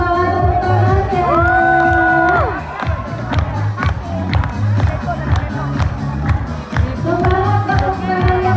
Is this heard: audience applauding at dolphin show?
yes